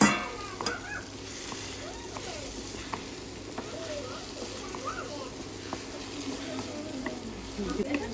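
Rice is stir-fried in a pan with a steady low sizzle and repeated scraping and stirring strokes, while a person talks quietly over it.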